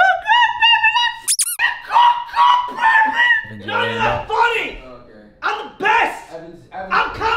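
A dog whines with high, squeaky yelps and excited vocal outbursts up close, mixed with people talking loudly.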